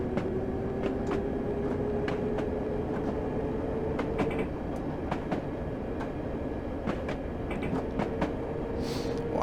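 A London Underground D78 Stock train runs steadily at speed with a continuous rumble, a rising motor whine and a regular clickety-clack of wheels over rail joints, loud and close from inside the carriage.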